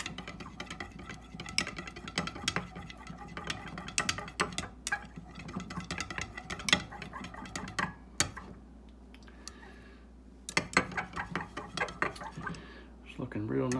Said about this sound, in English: Mix this up real good.